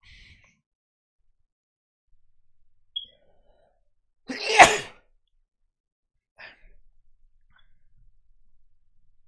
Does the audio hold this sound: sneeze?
yes